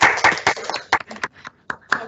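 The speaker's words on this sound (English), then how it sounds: "you unmuted your mic to hear the clap" Several sharp hand claps sent over a video call during an online HCI talk, arriving in uneven bursts as loud, close and somewhat choppy hits, with a little background talk mixed in.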